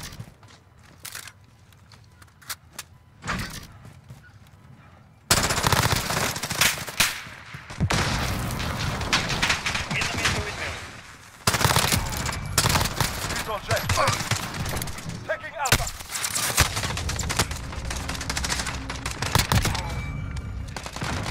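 Bursts of rapid gunfire from a newly unlocked weapon in a shooter video game, loud automatic volleys in clustered stretches with a brief lull midway, a voice talking now and then.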